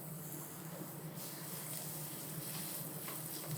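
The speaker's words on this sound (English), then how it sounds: "We're going to place our pork tenderloin in the pan" Pork tenderloin searing in a hot pan, a steady quiet hiss of sizzling fat running unbroken throughout with no voices.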